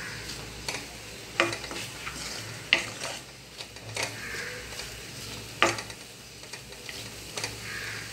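A spoon stirs unnakkaya mixture as cardamom powder ground with sugar is folded in, giving soft, close scraping strokes and scattered sharp clicks against the pan, with brief pauses between strokes and no talking.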